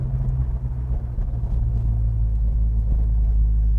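A 1970 Pontiac LeMans engine rumbles loud and close in a steady, deep idle that holds unbroken throughout, with no voices over it.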